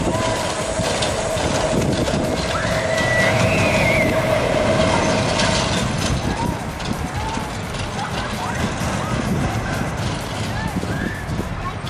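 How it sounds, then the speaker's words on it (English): An old, janky kiddie roller coaster train rattles and clatters along its track at a family fun center, a steady loud mechanical clack and rumble with faint squeals, with people talking over it. "You can tell it's really old because of how the train moves on the lift."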